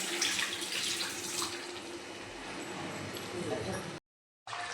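Water poured into a pan of chicken masala makes a continuous splashing rush at close range, lasting a few seconds before a brief cut.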